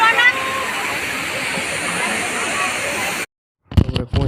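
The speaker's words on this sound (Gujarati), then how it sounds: "ગળધરામાં ખોડિયામાં આવડો ધોધ પડે એવડું છે" A waterfall at the Galdhara Khodiyar temple pours as a constant rushing hiss for about three seconds, then cuts off abruptly to silence before brief bumps and noise resume.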